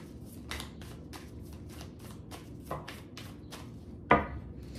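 Tarot cards are shuffled by hand at close range, with soft rhythmic flicks roughly twice per second and a sharper slap near the end.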